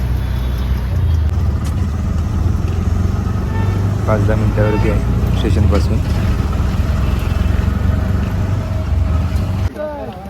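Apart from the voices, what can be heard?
auto rickshaw ride engine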